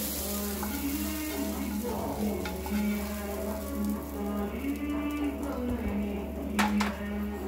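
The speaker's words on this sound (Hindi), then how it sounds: "अब यहाँ पे हमने अपनी दाल के अंदर इसको तड़का लगाना है।" Hot oil tempering crackles and sizzles continuously as it is poured into boiled dal, with stirring and a low hum underneath and a few sharper pops toward the end.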